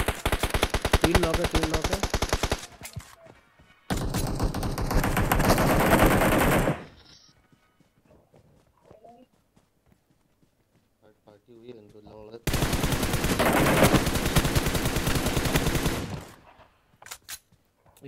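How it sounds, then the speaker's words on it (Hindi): Automatic gunfire in PUBG Mobile, long loud bursts of rapid shots in several separate volleys with quiet gaps between, a voice talking briefly in a pause. "गोले चल रही सामने से ये कहीं से चल रही है"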